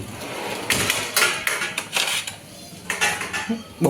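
Maggi noodles are scooped from a pan into a serving dish, with loud close metallic scrapes and clatters of utensil on cookware coming in uneven bursts.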